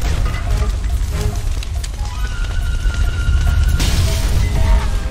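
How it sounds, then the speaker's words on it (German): Loud booming blast from the video game Guns, Gore & Cannoli 2, a rumbling low roar that swells continuously for several seconds with a brighter burst near the end. "Ich liebe das, diese Gewalt, diese Explosion."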